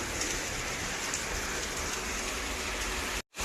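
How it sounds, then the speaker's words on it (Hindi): Heavy rain pours down steadily in a dense, even hiss on surfaces at a car modification workshop, continuous and unbroken until a brief cut at the very end. "बारिश रुकने का नाम नहीं ले रही"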